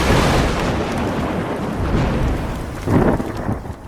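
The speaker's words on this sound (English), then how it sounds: "It seems to be raining heavily." Heavy rain pours steadily while deep rolls of thunder rumble, swelling loudest near the start and again in a strong burst toward the end.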